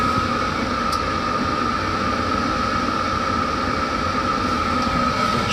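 Diesel heater turned up to its highest setting, giving a steady, even rushing roar with a faint whine running through it, constant and fairly close for several seconds, with no talking.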